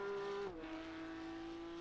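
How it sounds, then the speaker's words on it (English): A Porsche Cup race car engine in the iRacing sim at Imola holds a steady, buzzing note that drops sharply in pitch with a gear change, alongside a thin tire squeal. "Now we have sound for Peter Sigter's car."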